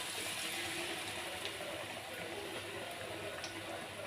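Potato bajji frying in hot oil over a medium flame, a steady, continuous hiss and bubbling that holds at an even level throughout with no talking.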